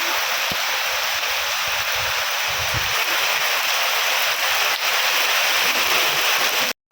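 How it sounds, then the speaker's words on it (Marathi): Heavy monsoon rain pours down in a steady, dense hiss that fills the whole clip evenly and loudly, with no voices, then cuts off abruptly at the end. "फुल पाऊस आला आहे"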